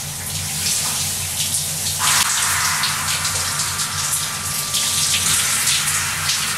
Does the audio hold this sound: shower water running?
yes